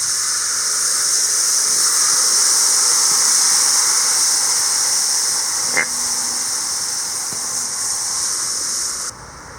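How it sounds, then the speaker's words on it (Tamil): Water poured into a hot cooking pot after roasting in oil, a steady loud hiss and sizzle running continuously for about nine seconds before cutting off abruptly. "கொஞ்சமாக தண்ணி ஊற்றிக்கலாம்."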